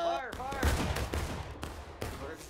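Musket volleys crack out in a War of Rights battle, several sharp shots in quick succession over a busy wash of distant gunfire, with voices calling out faintly beneath.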